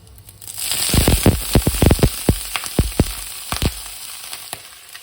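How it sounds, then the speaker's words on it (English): Frozen gyoza dumplings fry in a pan as a little water is poured in, erupting into loud crackling bursts and sputtering pops that gradually ease off. "you can add a little bit of water."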